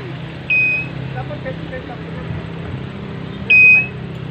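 An air pump used to inflate a car tire gives two short electronic beeps, about three seconds apart, over a steady low mechanical hum with faint voices in the background.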